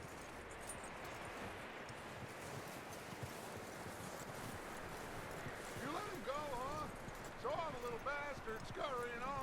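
Horse hooves clip-clopping steadily in Red Dead Redemption 2, set in willows country, a continuous near gait with wind and rustling behind it and a voice talking over it toward the end.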